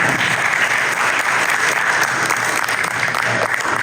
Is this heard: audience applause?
yes